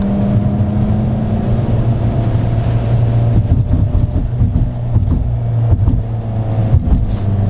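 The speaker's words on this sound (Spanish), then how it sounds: "El sonido escape aumenta, se regula y se optimiza la curva par potencia." Abarth 595C Competizione, the 180 hp version, its engine and exhaust in Sport mode, a steady low idle drone with a throaty rumble heard close up, with slight flutters but no hard revving.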